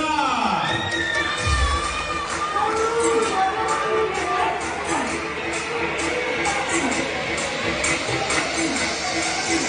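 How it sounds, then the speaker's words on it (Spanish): A crowd at a lucha libre wrestling event in an arena cheers, shouts and whoops for the match winners, a steady loud roar with children's shrieks mixed in and voices throughout. "Aplauso a los ganadores de esta lucha."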